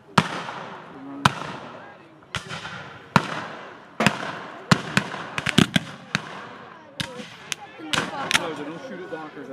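Black-powder musket and cannon fire at a Civil War battle reenactment, the Battle of Blountville, outdoors: a dozen or so sharp, loud reports at irregular intervals, some in quick clusters, with spectators talking between shots.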